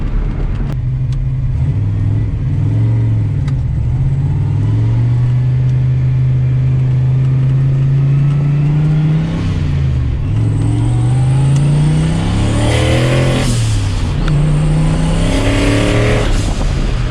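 A turbocharged Foxbody Mustang engine with an On3 turbo kit idles loudly up close, its steady drone rising and falling through several revs before settling back to a slightly high idle.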